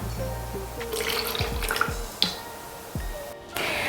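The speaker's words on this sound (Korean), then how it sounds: "이제 고운 체에다 한번 걸러서 병에다 담아주도록 하겠습니다." Homemade makgeolli drips and trickles through a fine sieve into a bottle, with a run of liquid followed by several distinct drips and small splashes heard close up, no talk.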